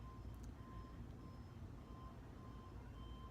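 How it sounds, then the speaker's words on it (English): Faint electronic alarm beeping in the background, a steady repeating tone under low ambient rumble, heard from a distance. "Look, there's an alarm going off behind me, if you can hear that. Like, ding, ding, ding"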